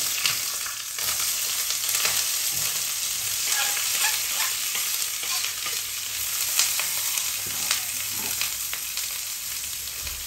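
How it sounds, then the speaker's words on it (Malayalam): Mustard seeds, chopped vegetables and curry leaves fry in hot oil for a green peas curry, giving a steady close sizzle dotted with small pops and crackles and some stirring, with no voices. "അപ്പൊ നമ്മുടെ കുക്കിംഗ് തുടങ്ങുന്നു ആദ്യം കടുക് പിന്നെ നമ്മൾ നുറുക്കി വെച്ച സാധനങ്ങള് പ്ലസ് വേപ്പില"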